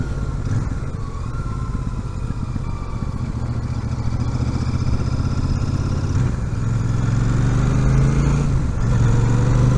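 A Royal Enfield Super Meteor 650 motorcycle's engine runs loud and close, a continuous low throb that swells with revs toward the end.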